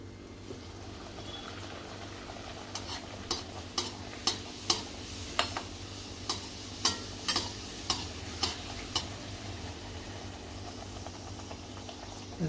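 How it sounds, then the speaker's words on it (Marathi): Puris frying in hot oil for an aamras puri meal make a low, steady bubbling sizzle, while a regular run of sharp taps or ticks, roughly two per second, sits over it from the middle onward. "तेल गरम झालेले आहे, आपण तळून घेऊया पुरी।"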